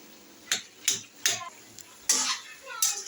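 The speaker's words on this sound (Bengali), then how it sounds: "মা এবার নেড়ে ছেড়ে নিচ্ছে" Food cooking in a pot is stirred with a utensil, producing several distinct scraping clinks at irregular intervals, close and fairly quiet, against a nearly silent background.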